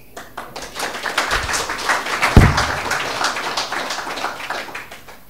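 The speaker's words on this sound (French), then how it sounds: "Des applaudissements donc pour les deux institutions" Applause from an audience at a formal French-language launch event, a dense patter of hand claps that swells, peaks in the middle and then slowly tapers off.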